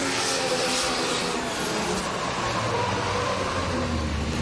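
A drift car at a Malaysian drift competition slides with smoking tyres, giving off a dense, continuous roar of engine and tyre noise that stays loud for the whole stretch, with no talking.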